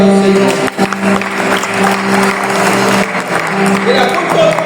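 A church congregation claps loudly and continuously, a dense wash of applause with a sustained musical tone and voices underneath.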